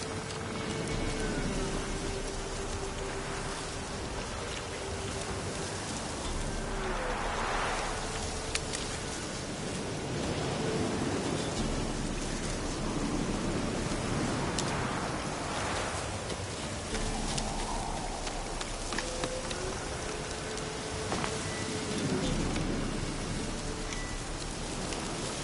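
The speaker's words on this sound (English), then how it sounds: "Looks like rain." Steady rain falls in a video game scene, a dense, even hiss of drops on surfaces lasting throughout, with faint low rumbles and occasional swelling gusts beneath.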